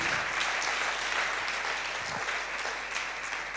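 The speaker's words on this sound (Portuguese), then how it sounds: "Dê uma salva de palmas a Jesus por isso." A church congregation applauds in a sustained, dense burst of clapping that fills the whole moment at an even level.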